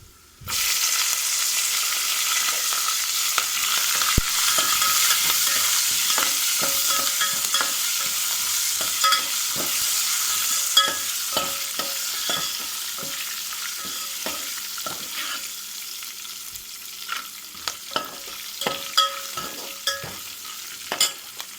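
Turmeric, dried red chillies and curry leaves fry in hot oil, giving a steady bright sizzle throughout with scattered sharp crackles and pops and occasional stirring clicks, close and fairly loud.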